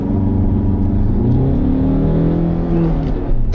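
A front-wheel-drive Peugeot 3008 accelerates hard on a test drive, its engine note rising steadily as the revs climb, loud and close throughout with no talking.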